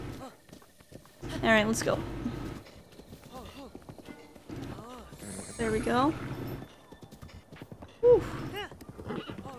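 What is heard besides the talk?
horse hooves clip-clopping in video game Breath of the Wild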